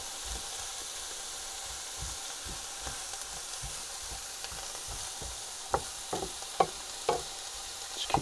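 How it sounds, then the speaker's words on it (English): Soft vegetables for a sausage casserole fry gently in a pan, a low hiss under spoon scrapes and stirring knocks that grow busier and louder toward the end. "Keep gently frying till everything's really soft and sautéed."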